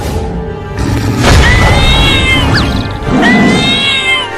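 Cartoon mother cat yowling fiercely while fighting a lion, loud drawn-out wavering cries in two bursts over a dense, noisy background of scuffling and impacts.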